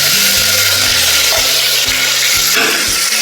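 Ginger, green chili, garlic and pepper sizzle in hot oil for a Kerala-style beef curry, a loud steady hiss running throughout with low rhythmic scraping beneath it.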